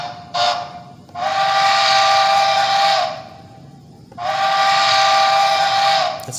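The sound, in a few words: Denver Rio Grande and Western 5-chime whistle, Bachmann HO model train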